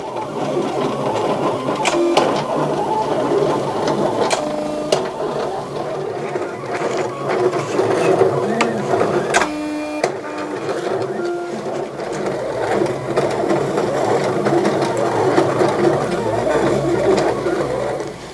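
A Silhouette CAMEO cutting machine slices glitter heat transfer vinyl designs, giving a steady close whirring and buzzing of carriage and blade motors, with brief pauses and shifts in tone as the cutter moves across the sheet.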